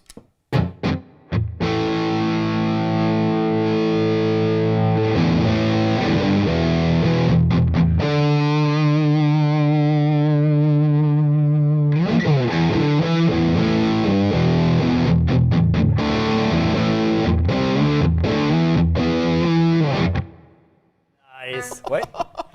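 Loud, saturated electric guitar with humbuckers through a Harley Benton Rodent distortion pedal into a Plexi amp, chugging chords and a long sustained ringing section, then choppy stabs before cutting off with some handling noise.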